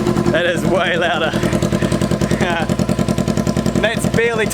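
Loud, close idle of a 2014 Kawasaki Ninja 300 running an MGP exhaust with no muffler, a steady pulsing drone as someone talks over it.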